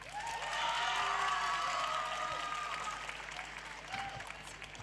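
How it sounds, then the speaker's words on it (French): An audience applauds on stage at a youth prize-giving event, with steady clapping, some cheering and a drawn-out whistle-like tone, swelling early then tapering off slightly. "Un tonnerre d'applaudissements pour la philosophe Lonines Pavot."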